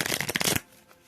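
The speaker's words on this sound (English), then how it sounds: "I'm going to shuffle a few of my cards that I made just by my handwriting." Handwritten cards are riffled in a quick, close shuffle lasting about half a second, followed by quiet.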